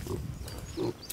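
Piglets grunting and snuffling as they eat inside an electric fence enclosure, two louder bursts of low grunts with quieter rustling between.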